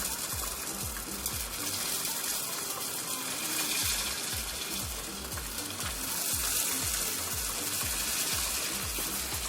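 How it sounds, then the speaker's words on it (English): Small squares of food fry in hot sunflower oil, a steady dense sizzle with faint bubbling running loud and continuous throughout, no voices. "we're going to fry it in some sunflower oil. Just gently just pop them into the oil."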